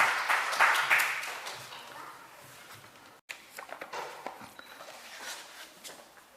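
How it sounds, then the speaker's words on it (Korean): A church congregation claps at a Korean church gathering after a scripture-copying testimony is praised, a moderately loud burst of applause that fades, briefly cuts out, then gives way to scattered claps and shuffling. "우리 박수 한번 주십시오"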